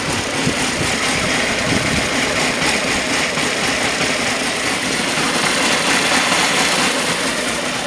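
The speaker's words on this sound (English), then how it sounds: "so you can listen to the engine." A 1998 Honda CBR600 motorcycle engine idles steadily up close, a continuous low rumble with a faint rattle and no speech.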